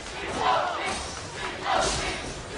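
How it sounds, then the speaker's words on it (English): Esports arena crowd at a League of Legends match between CLG and Curse roars in two swelling waves of cheering and yelling, loud and broad, with no clear talk on top. "The crowd is cheering."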